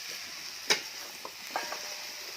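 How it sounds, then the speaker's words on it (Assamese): A quiet, steady sizzle of chicken, potato and radish frying in a pan, with a sharp clatter and a couple of soft scraping knocks from stirring. "গোটেইখিনি এক লগত ভাজি লওঁ।"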